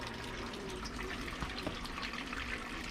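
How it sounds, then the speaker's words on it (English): Water running steadily in a custom camper van sink on a Pacific Coast Highway road trip, a constant close wash of flow and trickle that drains throughout with no talk over it. "but the water is still draining"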